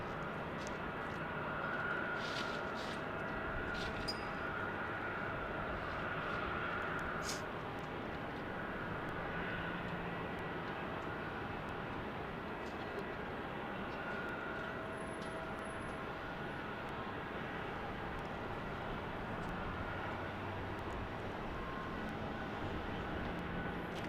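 A British Airways airliner passes at Salt Lake airport, a steady broad jet roar held throughout, moderately distant and unbroken, without talk.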